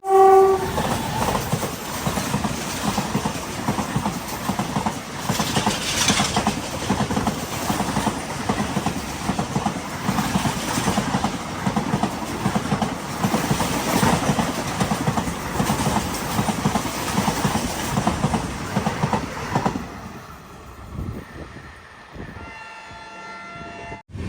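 A train rumbles steadily along the rails with rhythmic clatter for about twenty seconds, then the noise drops away as it slows, heading into Uttarakhand near Roorkee.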